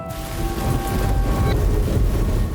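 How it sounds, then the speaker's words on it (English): A thunderstorm at Toronto's international airport, with heavy rain and wind making a dense, steady roar and a low rumble of thunder underneath, loud and continuous with no voices. "the thunderstorms are already rolling through. Rain, wind, and lightning are hammering the runways."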